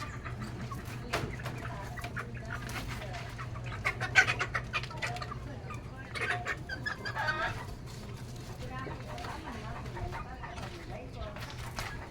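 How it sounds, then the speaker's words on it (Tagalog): Sick hens clucking and murmuring close by over a steady low hum, with bursts of scratchy movement and a brief louder squawk near the middle. "yung manok natin kasi minsan lang ko na may lumalabas ng ganito na breed"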